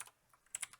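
Keys on a calculator are tapped a few times in a quick, faint burst, with soft clicks near the start and a tighter pair close together at the end, no talk.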